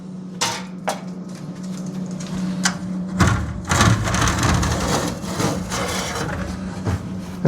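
A metal door panel is pulled off a Honeywell F50 electronic air cleaner beside a furnace, with scraping, knocking clunks and rubbing handling noises up close over a steady low hum.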